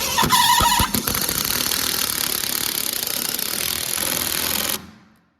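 A power driver runs a screw into a plug on a short block engine, a loud steady whirring drone lasting about five seconds with a few sharp clicks at the start, then stopping abruptly.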